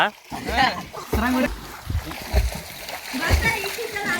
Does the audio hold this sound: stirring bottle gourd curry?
no